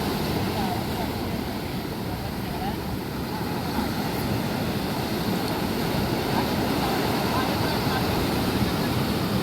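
Steady roar of sea surf washing onto the shore, continuous and fairly loud, with broadband wind-like rush throughout.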